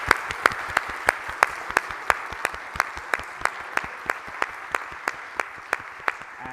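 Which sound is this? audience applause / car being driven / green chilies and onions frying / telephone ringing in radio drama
audience applause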